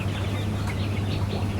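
Tiger chickens and their chicks cluck and cheep in a farm shed, with soft scattered calls over a steady low mechanical hum from a fan or motor.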